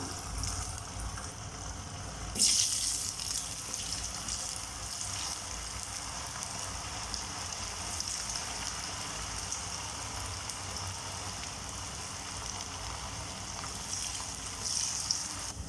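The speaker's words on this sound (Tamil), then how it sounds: "இப்போ நம்ம ஊற வச்சுருந்த காலிஃப்ளவரை ஒவ்வொன்றா பொரிச்சு எடுத்துடலாம்" Pieces of marinated cauliflower for Gobi Manchurian deep-fry one by one in hot oil in a kadai. A steady, rain-like sizzle runs throughout, with a brief louder crackle as a piece goes in.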